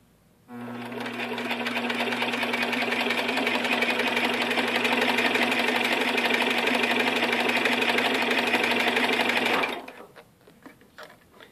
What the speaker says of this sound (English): then you're able to wind the bobbin